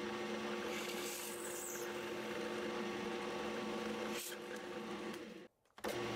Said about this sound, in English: I now finish drilling through using a 1/4 inch bit.